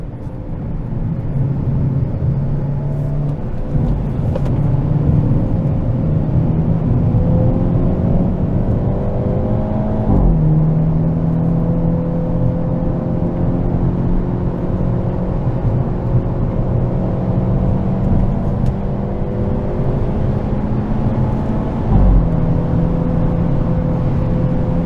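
A 2022 Hyundai Elantra N accelerates hard on a race track, engine droning loud and steady from inside the cabin with rising revs and quick dips at gear shifts, continuous throughout.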